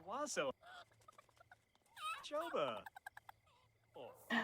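Chicken clucking in The Sims 4 Cottage Living, several short harmonic calls spaced over a few seconds, fairly close, with game sounds and brief tones between them.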